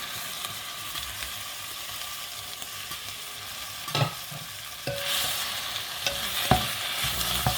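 Pork adobo ingredients, pork and pork skin, sautéing in a pan: a continuous broad sizzle with scattered utensil scrapes and a few sharper clacks against the pan, close and moderately loud, no voices.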